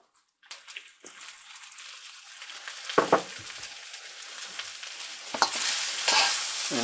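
Sesame oil poured over kimchi fried rice in a hot pan sets off a rising sizzle that begins after a moment of silence, with scraping stirs and spatula knocks at intervals; nobody talks.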